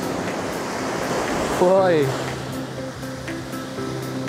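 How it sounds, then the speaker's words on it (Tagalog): Ocean surf at a beach in Elyu washes in a steady broadband rush. A man calls out briefly over it, and a tonal engine-like hum joins partway through. "Yung alon."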